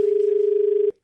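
A single steady electronic telephone tone holds for just under a second and then cuts off cleanly; no voices.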